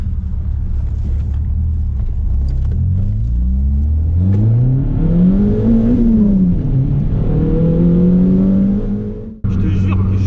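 A car with a stiffened rear suspension drives while its engine revs, rising and falling in pitch with a loud, close, continuous rumble that cuts off briefly near the end.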